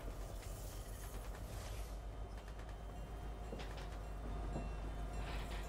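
A train in the video game Fortnite rumbles steadily and loudly throughout, a continuous low mechanical roar with faint creaks and clanks on top, no talking.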